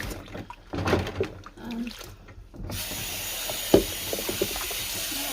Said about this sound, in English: It's getting kind of full, this sink.